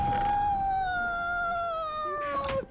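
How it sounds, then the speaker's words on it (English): A cat in the Minecraft video game lets out one long, drawn-out meow that slowly falls in pitch, loud and close, ending in a short breathy tail. "You're killing my kitty cat."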